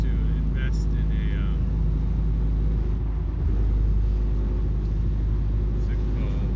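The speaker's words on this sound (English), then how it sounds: "My truck is super loud." A loud truck engine drones steadily in a deep, continuous rumble from inside the cab, with someone talking over it at moments.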